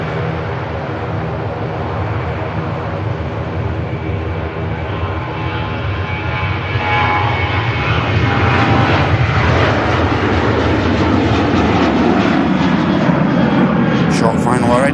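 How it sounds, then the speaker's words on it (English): An EasyJet jet airliner inbound from Madrid on final approach at Manchester Airport, a continuous loud engine roar that builds slightly as it nears, with a voice talking over it. "On our finals, we have an EasyJet inbound from Madrid."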